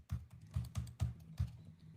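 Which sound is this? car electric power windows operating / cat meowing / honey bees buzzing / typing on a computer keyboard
typing on a computer keyboard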